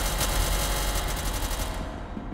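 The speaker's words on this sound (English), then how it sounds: "Hear gunfire." Rapid gunfire in the video game SCP: Secret Laboratory, a dense burst of overlapping shots that stays loud and continuous for a couple of seconds before thinning out near the end.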